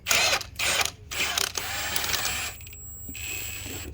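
Ratcheting wrench snugging the wheel lug bolts on a 2017 Ford F150 during rear brake work, a close series of quick mechanical clicking bursts with short pauses between them.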